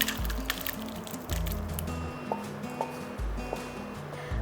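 Boiled soybeans and water are poured into a cloth-lined strainer, making close, wet sloshing and squishing with low thumps and splashes.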